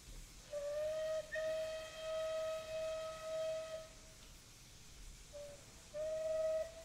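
A steam locomotive whistle from a BR Bulleid Rebuilt Merchant Navy class engine in the Train Simulator 2020 game blows one long sustained blast, then a short toot and another brief blast, clear against a quiet hiss.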